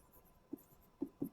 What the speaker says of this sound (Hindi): अब सारे पार्टनरों के नाम लिख लीजिए, चारू, हर्षा